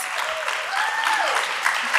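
Audience applause for panelists and artists at an arts event, steady clapping from a crowd filling the whole two seconds at an even level, with some faint voices mixed in.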